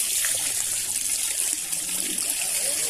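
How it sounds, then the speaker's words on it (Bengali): Spring water flowing out of the ground at an ashram, a continuous bright trickling rush heard close and steady with no talk. "এখানে আপনার জল বেরিয়ে আসছে এই জলে কোনো মোটর বসানো নাই"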